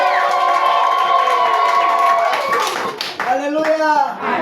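Congregation clapping at a Pentecostal church service, a dense steady roar of hands with shouting voices and singing mixed in throughout, loud and sustained.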